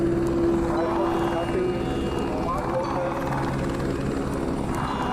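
A helicopter at Ghangaria on the Hemkund Yatra route drones steadily with a low rotor thrum, heard nearby under outdoor ambience and some voices.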